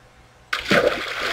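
A Minecraft character splashes into water in the video game, a sudden loud splash that washes into a sustained hissing, bubbling rush after a quiet start, close and unaccompanied by talk.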